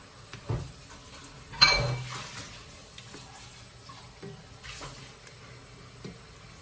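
Dishes and pots shifted around in a kitchen sink while cooking hamburger steaks, giving a few scattered clinks and clatters, one louder clunk near the middle, against a quiet background.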